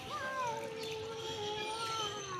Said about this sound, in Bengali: ও আবার কথা বলছে মিয়াও করে